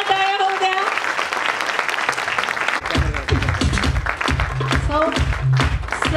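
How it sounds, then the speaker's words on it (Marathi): An audience at a New Year celebration applauds, a dense rolling clatter of hands, while someone speaks loudly over it and music-like tones sound at the start and near the end. "जोरदार टाळ्या होऊ द्या."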